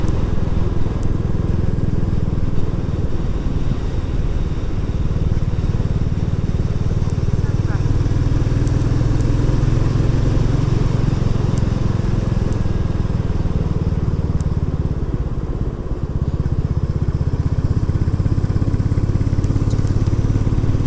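A Royal Enfield Classic 350 motorcycle riding a gravelly country road, its engine droning steadily and loudly for the whole stretch, with wind buffeting mixed in.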